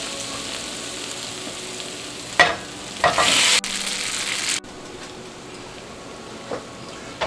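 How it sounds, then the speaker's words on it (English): Noodles are stirred into a pot of Southern-style chicken stew, with soft bubbling and a few sharp scraping, clattering bursts of a spoon against the pot, then quieter simmering. "He just stirred it around, mixing all them yummy flavors together."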